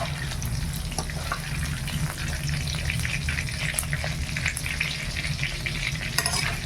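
Cauliflower frying in hot oil, a steady close crackle and sizzle with low bubbling throughout and occasional sharper pops, no talking.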